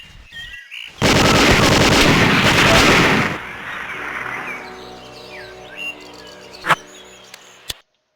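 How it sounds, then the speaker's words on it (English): A loud, sustained roar of 20mm autocannon fire in the Hidden & Dangerous video game lasts about two seconds, followed by a fading rumble, a few chirps and two sharp late cracks. "shot it from a 20mm auto cannon."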